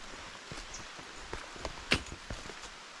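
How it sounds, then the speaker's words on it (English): A quick summer rain shower falls on a forest trail along the Arkaquah Trail, making faint, scattered drop taps on leaves and ground with an occasional louder nearby hit, all soft and without voices. "No thunder, no lightning, just rain."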